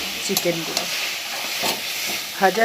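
Butter chicken sizzles steadily in a hot pan as ground black pepper is stirred in, with a continuous frying hiss broken by a few sharp scraping stir strokes near the end.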